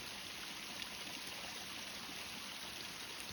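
A steady, low wash of stream water flows outdoors where lambs stand at the bank, an even rushing hiss with no voices.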